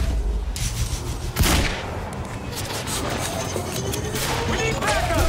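Gunfire in Quantum Break, repeated loud shots and bursts with a heavy blast near the middle over noisy combat.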